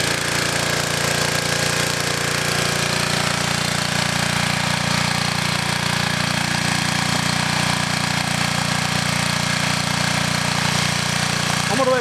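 A wood gas powered engine idles while warming up, a loud, continuous low throb with a steady mechanical chug holding unchanged for the whole stretch, nearby and without talk.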